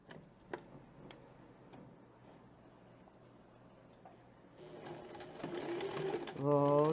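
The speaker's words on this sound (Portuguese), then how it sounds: "Vou costurar dessa marcação até essa." A sewing machine stitches fabric along a marked line for a six-pointed star piecing technique, running steadily with faint ticking and growing louder and busier toward the end.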